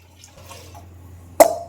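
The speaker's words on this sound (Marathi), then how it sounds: "पाणी ओतलंय मी आता" Water splashes briefly into washed dal with turmeric, tomato, chilli and coriander in a pressure cooker, a single short, close pour after a near-silent moment with a faint low hum.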